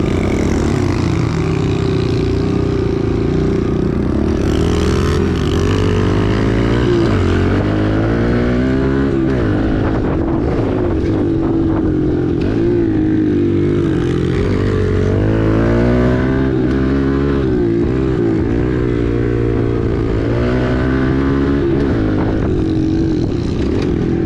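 Kawasaki KLX110 small dirt bikes ripping laps, their loud engines revving continuously with pitch rising and falling through throttle changes and shifts, close and sustained throughout.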